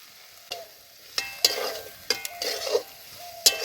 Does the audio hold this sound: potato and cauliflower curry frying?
yes